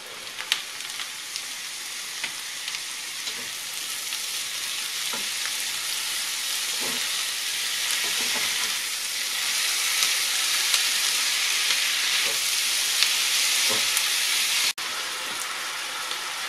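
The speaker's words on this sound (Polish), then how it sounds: "I będę je teraz podsmażać do odparowania soku" Chanterelle mushrooms frying in butter with onion, a steady close sizzle with hissing steam and occasional soft pops and stirring clicks, growing a little louder partway through.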